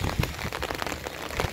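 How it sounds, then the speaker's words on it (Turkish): Steady rain falls on a high hillside overlooking a valley, a dense close hiss with scattered heavier drop hits and no voices. "Ne yazık ki yağmur dinmedi."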